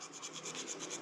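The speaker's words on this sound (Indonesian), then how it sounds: "satu kampas rem ini diamplas" A brake pad scraped with sandpaper by hand, a close, rhythmic rasping rub repeating in quick back-and-forth strokes, with no talk.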